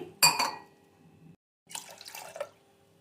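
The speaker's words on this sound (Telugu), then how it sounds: "ఇలా కడిగి పప్పు కడిగేసుకొని గ్లాసున్నర వాటర్ పోసుకున్నాం కదా" Toor dal being rinsed and water poured into a vessel, two short splashy bursts of running water close by, separated by a brief silence.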